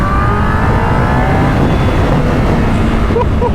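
A 1998 Yamaha R1 motorcycle engine roars continuously while riding on a sunny road, loud and close with a rising then steady engine note under heavy wind rush.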